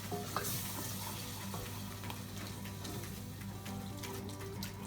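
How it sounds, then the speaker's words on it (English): Milk being whisked into a lumpy white sauce for roasted vegetable lasagne in a pan, a soft, continuous swishing and light tapping of the whisk against the metal, fairly quiet and close, with no talking. "If you do get loads of lumps, then just use a whisk to whisk them out"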